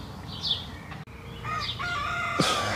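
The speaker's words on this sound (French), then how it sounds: "c'est un coq nain, il est tout petit comme ça là. Mais il en fait du bazar." Bantam roosters crow back and forth at each other in a face-off, several overlapping calls near and farther off, with a sharp click, a wing flutter and outdoor background noise.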